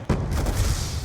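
A grenade blast in Black Ops 2 Zombies: a sudden loud boom that hits hard and then rolls on as a dense, rumbling roar for the rest of the moment.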